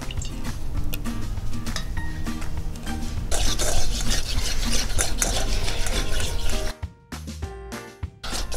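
Slime is stirred and squished with borax activator in a bowl, giving close, wet, sticky rubbing and squelching sounds in a steady rhythm that stops briefly near the end.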